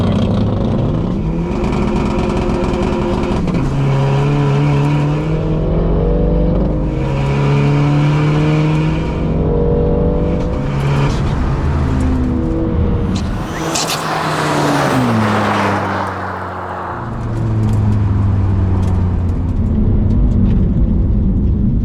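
A BMW M2 Competition and a SEAT Ibiza 6K run a drag race, engines roaring loud and sustained through repeated rising gear pulls, with a brief dip mid-run before the howl climbs again; no talking.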